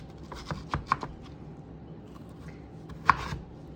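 A knife slices through a vegetable on a cutting board, with several quick, sharp cuts in a short cluster, then a pause before one louder chop, close and fairly faint.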